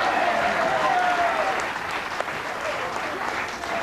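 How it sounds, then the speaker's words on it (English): A studio audience claps steadily in a broad wash of applause during a 1989 TV game show, staying loud and even throughout with a voice briefly heard over it. "Now, why did you clap?"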